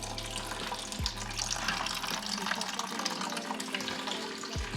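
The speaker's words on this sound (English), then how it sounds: "now that I've drained the radiator" Coolant draining from the radiator of a 2025 Ducati Panigale V2 during a flush with Engine Ice, a steady close splashing trickle of liquid over a low hum, with a couple of brief thumps.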